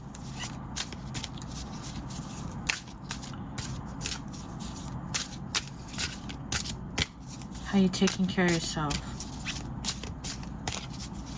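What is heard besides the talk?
tarot deck being shuffled and split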